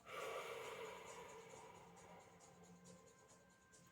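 One long, quiet, close inhalation through the nose, an airy breath that swells at the start and slowly fades over several seconds, with no talking.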